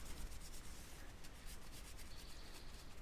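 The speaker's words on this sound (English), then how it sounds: "take your detail brush, agitate the surface a little bit, just so that it reaches in every nook and cranny" A detail brush scrubs cleaner over a car wheel, giving a steady, close, continuous rubbing and bristle-scratching sound with no voices.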